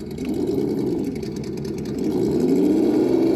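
Traxxas TRX4 High Trail RC truck motor running in first gear, a steady mid-pitched electric whine that swells slightly louder partway through, close and continuous.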